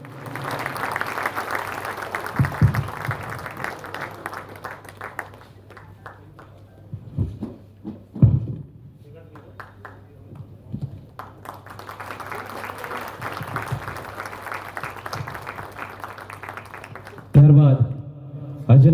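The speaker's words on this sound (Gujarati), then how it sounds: "તાળીઓ થઈ જાય મિત્રો સાહેબ માટે." An audience gives sustained applause to honour a guest at a Gujarati community family festival in Ahmedabad. The clapping is steady and fairly loud, dips briefly midway, then swells again, with voices breaking in at times.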